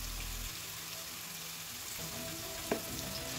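Potatoes frying in a pan for a plain bitter gourd stir-fry, a steady close sizzle and crackle throughout, with a brief clatter near the end.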